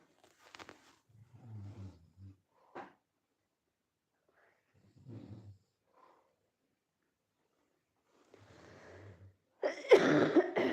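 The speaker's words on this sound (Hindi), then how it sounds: "पता नहीं, मेरे कल परसों से खांसी पकड़ ली।" Several scattered coughs and throat-clearing sounds with quiet gaps between, ending in a louder, harsher cough burst close to the listener.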